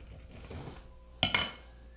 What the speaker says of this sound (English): I need a fork, and we're just going to go over the egg and the peas, cut off a piece of the toast